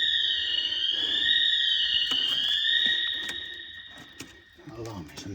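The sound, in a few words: store alarm blaring in abandoned Toys R Us store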